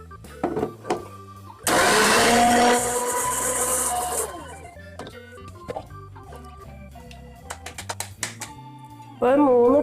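A mixer grinder grinding wheat flour for puttu whirs loudly in one short burst of a couple of seconds, with someone talking before and after it.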